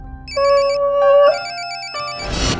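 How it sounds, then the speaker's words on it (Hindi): A mobile phone rings with a melodic electronic ringtone. Its bright, repeating beeping phrases sound loud and close, pause briefly, then start again before a burst of noise at the end. "सर, आपका फोन बज रहा है सर।"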